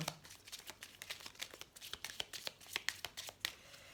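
Tarot cards being shuffled and cut by hand, a quick run of crisp riffling snaps and soft flutters, close and fairly quiet, with no talking.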